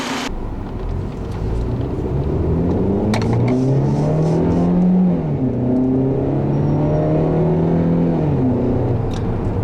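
A 2012 Volkswagen Jetta S 2.0-litre engine with 6-speed automatic revs up loudly and steadily, its pitch climbing as it accelerates, then easing briefly before pulling again. No one speaks.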